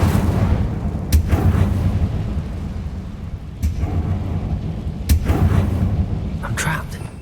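Booming fire bursts from Incendio spells cast in Hogwarts Legacy, with several sharp cracking hits over a steady rumbling background.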